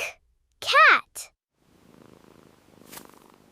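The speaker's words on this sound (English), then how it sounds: "Cat." A cat purrs softly and steadily for a couple of seconds after a short voiced sound at the start.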